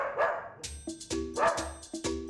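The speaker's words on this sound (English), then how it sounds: "Or it could be a really aggressive dog" An aggressive dog at an animal airport barks in sharp, loud bursts, about four close barks in quick succession with yelping edges.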